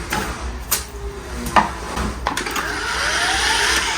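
A fairly new whisk with hardened buildup churning plaster in a bucket, a loud close grinding whir with knocks and scrapes, rising into a steady mixing drone.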